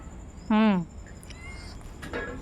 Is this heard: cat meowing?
yes